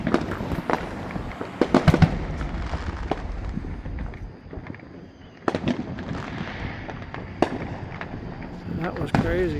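July 4th fireworks explode outdoors in a quick succession of loud booms and crackling bursts, with people talking excitedly over them.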